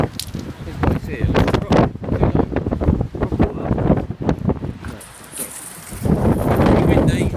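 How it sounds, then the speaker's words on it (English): Strong stormy wind buffets the microphone on the Brighton seafront by the stones. It roars continuously and loudly, with gusts rising and falling, while someone talks over it. "Oh God, it's getting a bit windy here."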